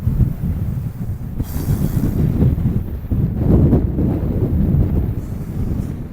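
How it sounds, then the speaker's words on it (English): Strong wind buffets the microphone while fishing outdoors, a continuous low rumble that swells and eases, with no voices heard. "I swear it only goes windy when I come fishing."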